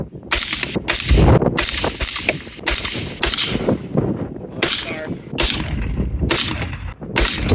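Gunshots striking a washing machine target at a shooting range, about ten sharp cracks at irregular intervals with metallic impact ring, loud and close, with brief voices between shots.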